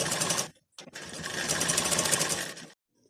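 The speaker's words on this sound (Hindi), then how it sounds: "इसे यहाँ से यहाँ तक पूरी सिलाई" A sewing machine stitches the lining of a blouse in loud rapid bursts, running about half a second, pausing briefly, then running steadily for nearly two seconds before stopping, close and alone.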